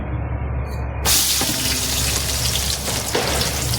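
Two onions dropping into hot oil in a pan for a biryani-style rice dish: a sudden loud burst of sizzling hiss that then holds steady and close, with a few faint clicks, no talking.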